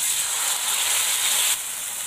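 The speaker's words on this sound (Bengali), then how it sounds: "কাঁচা লঙ্কা আর আদার পেস্ট, জিরে গুঁড়ো, হলুদ মিশিয়ে নেব আর মশলাটাকে ভালোভাবে কষিয়ে নেব।" Green chili and ginger paste with cumin powder and turmeric sizzles in a pan over bay leaf and five-spice tempering for a bottle gourd and red lentil dal, a short, steady close hiss that softens just before the end.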